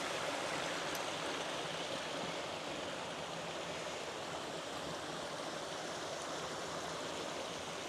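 Small waterfalls of clear mountain water on Plešivec make a steady, even rush. The sound is continuous and fairly faint, with no voices.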